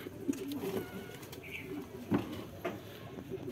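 Lakkha pigeons coo in a loft, a few soft low coos at moderate distance over a steady room hum, with a faint voice in the background.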